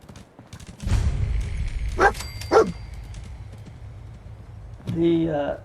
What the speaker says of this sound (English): Now I have a dog.